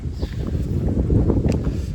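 Gusty wind buffets the microphone, producing a low, constant rumbling roar with occasional flutters and no voices.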